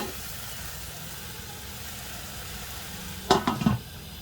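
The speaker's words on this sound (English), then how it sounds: "Give it a stir and then you cover." Chicken and mushrooms in oyster sauce are stirred in a pan, giving a faint continuous sizzle, then a short burst of scraping and clatter near the end.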